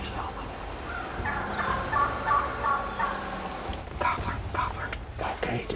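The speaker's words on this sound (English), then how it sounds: "I think it's gobblers up there. Yeah. Gobblers yelping." Wild turkey gobblers yelp from a distance outdoors during a hunt, their repeated calls faint to moderate, while hushed whispering voices are heard close by.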